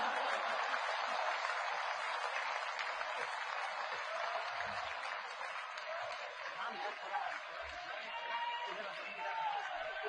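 An audience at a Hindi poetry comedy show applauds with dense, sustained clapping that fills the whole stretch at an even level, heard from a distance.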